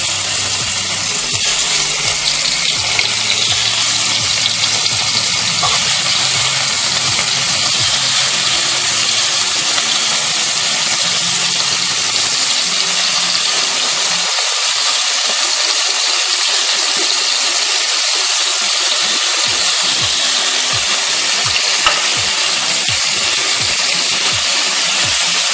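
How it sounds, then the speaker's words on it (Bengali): Salted, turmeric-coated prawns drop into hot oil for a Bengali-style prawn curry, giving a loud, steady hiss and crackle that continues without a break and thins slightly partway through. "তেল গরম হয়ে গেছে, এবার আমি চিংড়ি মাছগুলো তেলের মধ্যে দিয়ে দিলাম"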